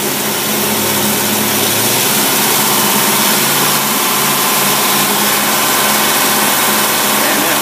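A steady, loud engine idles close by on an AFB Carter carburetor, a constant rough drone that holds its level throughout with no talking.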